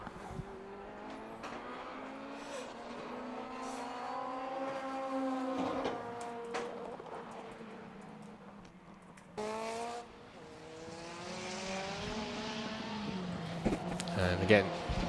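Honda race cars lapping the Knockhill circuit during a time attack session, engines rising and falling in pitch as they accelerate and shift, heard at a distance beneath continuous commentary.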